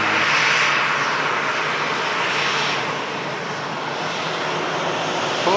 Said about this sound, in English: Last departure of the show, guys. Beautiful Saudia 787 Dreamliner.